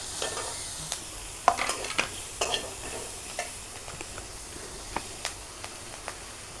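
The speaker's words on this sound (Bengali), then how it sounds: "কাঁচামরিচ, দিব পেঁয়াজ, আর দেব রসুন। এগুলো এখন তেল ভেজে নেব।" Green chilies, onion and garlic fry in oil, giving a soft, steady sizzle broken by scattered scraping stirs of a spoon against the pan, moderately close and fairly quiet.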